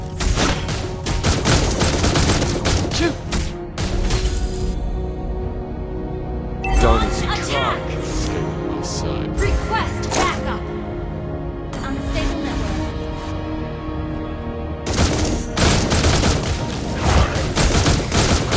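Granger's gunshots in the mobile battle game Mobile Legends ring out in loud rapid bursts of fire with booming impacts, separated by brief lulls, alongside game sound effects.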